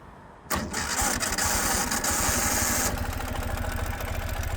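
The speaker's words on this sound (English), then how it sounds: "So the very last thing I would like to show you is just firing this bike up." A 2017 Ural Gear Up 2WD sidecar motorcycle engine cranks and fires up in very cold weather, then settles into a loud, steady, rough idle close by.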